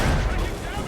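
Heavy ship cannons booming in a naval battle in Assassin's Creed Rogue, a loud, dense rumbling blast filling the whole second, with a voice shouting over it.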